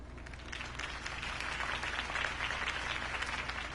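A crowd applauds at a campaign speech in the Batman Telltale video game, a dense, steady wash of clapping that holds at an even level, fairly loud.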